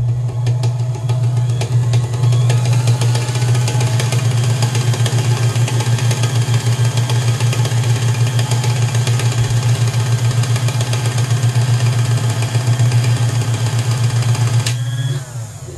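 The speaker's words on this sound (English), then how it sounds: "So now we've got the bobbin winder ready." A Gritzner VZ sewing machine, also sold as the Kenmore 117.740, winding a bobbin, with a loud, steady motor whir that runs without a break until it stops abruptly near the end, close up with no talk.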